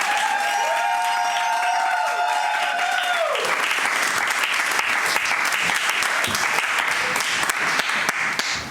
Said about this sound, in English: Everyone, give it another round of applause for Mykel Brown